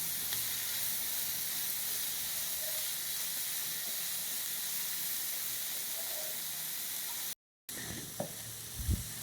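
Onions sauté in a pan for Jaffna-style Sri Lankan seeni sambal, giving a steady, close, dense sizzle and hiss throughout, broken by a brief gap near the end followed by a few stirring knocks.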